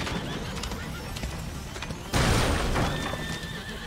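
In the video game A Plague Tale, a horse whinnies loudly over a dense, noisy background, followed by a sudden crash and rushing commotion.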